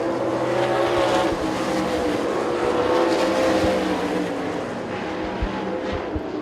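Sprint cars race around the Dixie Speedway dirt track, their engines producing a loud, sustained roar that swells and fades as the pack passes, with a few sharp pops near the end.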